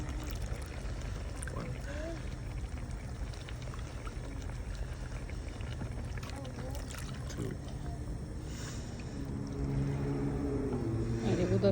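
About 3 cups of water pour steadily into a pot outdoors for biriyani, a soft continuous splashing that grows a little louder and fuller near the end.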